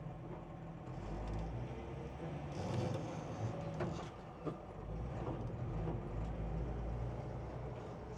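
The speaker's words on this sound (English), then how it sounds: "Drop into first. There's low. I'm off the gas there. Just creeping right along." A 1966 Ford Bronco pickup crawls along in first, low gear, off the gas, its engine giving a steady, fairly quiet low rumble with no voices over it.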